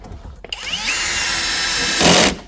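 Power driver tightening screws into a VW T5 center console: a short buzzing run that winds up after a brief start, then surges louder near the end before cutting off, close and alone.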